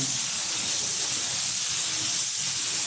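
Steady broadband hiss of a pressure washer's fan spray nozzle running at about 60 psi, loud and continuous throughout with no pauses or voices.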